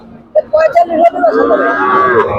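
A milch cow at a cattle market in Manirampur, Jashore moos loudly and close by, a drawn-out lowing call in a few rising and falling pulses.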